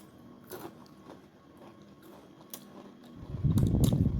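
Someone chews a savory pizza-flavored Egyptian biscuit snack: faint crunchy bites at first, then loud close crunching near the end, with no talk.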